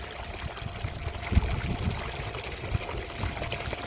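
Water gushes steadily under pressure from a solar-powered BLDC motor pump running on two panels, a dense continuous rushing and splashing stream close by with occasional louder surges.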